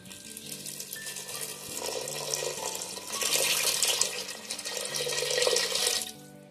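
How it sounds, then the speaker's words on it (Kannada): Water poured into a pot of fried rice for ghee rice, a steady splashing trickle that builds over several seconds, moderately close, then stops, with no voices. "ಈಗ 2 ಲೋಟ ನೀರು ಹಾಕೊತೀನಿ."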